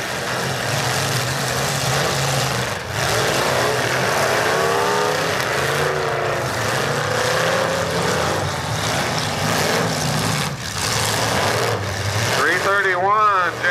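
Demolition derby car engines roar and rev loudly and continuously at a Delaware County, Ohio event, a dense mechanical drone under an announcer's steady commentary.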